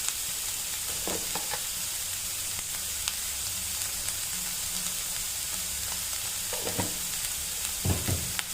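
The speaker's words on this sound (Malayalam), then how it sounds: "അതിൻ്റെ കൂടെ ഞാനൊരു 1/2 ക്യാപ്സിക്കം അതും കൂടെ ചേർക്കുന്നുണ്ട്. ഇതൊന്ന് ശകലം ഒന്ന് വാടി വന്നച്ചാൽ മതി." Half a capsicum sautéing in a pan until just wilted, for a chickenless lollipop dish: a steady, close sizzle with a few soft stirring scrapes scattered through, and no voices.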